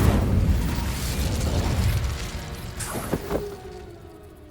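Incendio fire spell cast in the Hogwarts Legacy video game: a deep rumbling blast that fades, then a few sharp bursts and crackles before a thin lingering tone, all without speech.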